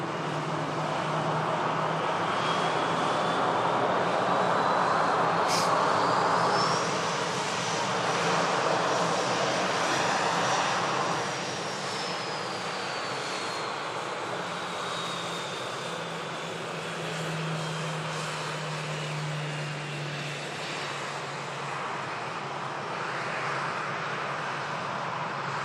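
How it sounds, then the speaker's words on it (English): Ryanair airliner arriving at Manchester Airport from Barcelona, a steady jet engine roar that swells and then gradually fades, with a faint distant background hum. "Ryanair just jumping in on the shot,"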